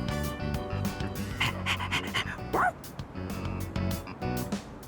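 A stray dog in Persona 3 Reload pants rhythmically up close, with a few yips and a brief whine over soft game music.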